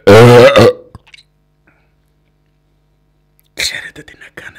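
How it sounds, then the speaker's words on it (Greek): A loud, deep voiced burp right after drinking Dr Pepper soda opens the stretch, followed by near silence and then softer throaty sounds and mouth noises close to the microphone. "2 ρεψίματα σε ένα βίντεο."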